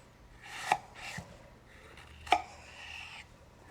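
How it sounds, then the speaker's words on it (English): A knife slices food into thin strips in a few quiet, separate strokes, each ending in a soft tap on the cutting board, with no voices. "I sort of do a backward slicing motion with the knife and hold on to the slices with my finger"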